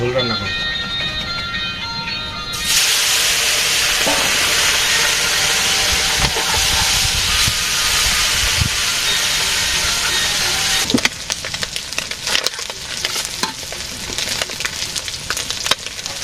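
Okra, potato and bata fish cooking in a village kitchen, giving a steady broadband sizzling hiss that starts abruptly a few seconds in and continues at a fairly even level, with a few clinks and shifts near the end.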